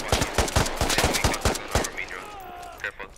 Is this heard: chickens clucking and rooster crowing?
no